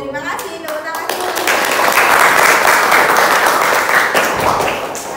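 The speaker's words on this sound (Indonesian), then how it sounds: "Terima kasih, tepuk tangan dulu." A classroom of students claps together in a loud, dense burst that swells after the first second and holds steady, with a few children's voices mixed into the applause.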